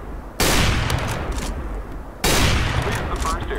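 Gunfire in the Overwatch training course: two sustained loud bursts of rapid shots, the first starting early and running nearly two seconds, the second following after a brief break and continuing to the end.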